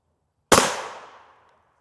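A single sharp rifle shot firing M80A1 EPR ammunition cracks out of silence, loud and close, then trails off in a decaying echo lasting about a second.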